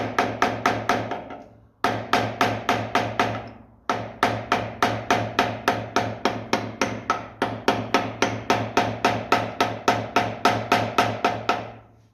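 Light metallic taps on the brake drum of a 1955 Ferguson 20 TED TVO tractor rear end come in quick, evenly spaced runs of about eight to ten strikes, with brief pauses between the runs, close and fairly loud.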